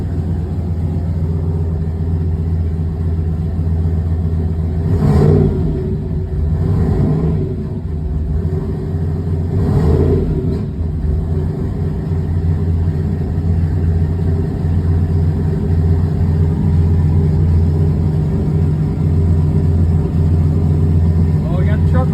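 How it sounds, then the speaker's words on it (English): A Chevrolet S10 Blazer truck engine running steadily with a low, constant drone, rising in a few brief revs early on before settling back to a smooth idle. "Well, we got the truck running."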